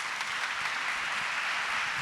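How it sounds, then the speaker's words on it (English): An audience applauds Governor Roy Cooper at an award presentation, a steady wash of many hands clapping at moderate volume throughout. "Big round of applause for Governor Roy Cooper"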